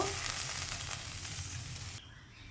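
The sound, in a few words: water poured into hot pan sizzling, fish curry cooking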